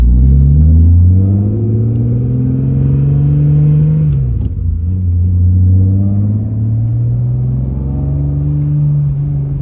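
Deep, loud exhaust drone from a BMW E36 M3 under way, pitch climbing through a gear, dropping at a shift, then rising again steadily.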